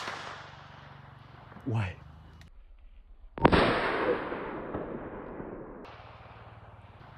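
A single loud firework blast from a backyard Tet celebration goes off suddenly and rumbles away in a long fading tail, with a brief voice exclamation just before it.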